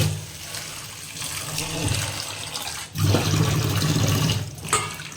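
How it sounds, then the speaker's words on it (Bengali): Flattened rice (chira) is rinsed in a bowl under running water, with splashing and a steady pour that grows louder partway through, close by. "চিড়েটা বাটির মধ্যে নিয়ে নিলাম এখন ভালোভাবে একটু ধুয়ে নেব"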